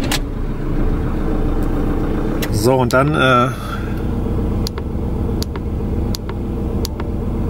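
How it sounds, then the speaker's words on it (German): A Fiat Ducato campervan engine cranks briefly and catches, then settles into a steady, close diesel idle, while someone speaks over it. "Ich starte mal meinen Motor."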